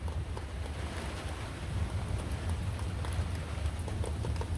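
Steady rain falling as a storm begins in Homosassa, Florida, a constant hiss of drops with some wind noise, even and moderately faint throughout.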